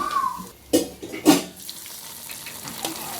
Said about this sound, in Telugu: తాలింపు రెడీ అయింది కట్టుచారులో పోసుకుంటా